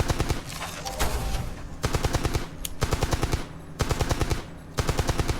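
A gun in the online game Entropia Universe fires in rapid automatic bursts, loud and close, with short pauses between volleys and no talk over it.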